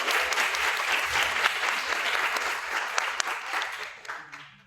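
An audience at a panel discussion on autism applauds steadily as a participant is introduced, a dense wash of clapping that holds for several seconds before tapering off at the end.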